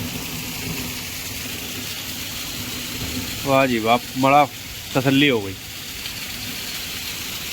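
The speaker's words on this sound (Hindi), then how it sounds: "आखिरकार 8 महीने बाद इतनी जोर से बारिश देखने को मिली है।" Heavy rain pours steadily onto farm fields, a constant hiss under a man's brief spoken remarks partway through.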